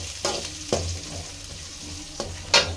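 Sliced onions and curry leaves frying in a pan for a bottle gourd curry, with a soft background sizzle broken by four sharp scrapes of a spoon stirring at irregular intervals.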